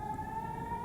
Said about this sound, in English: In Israel, there are sirens blaring.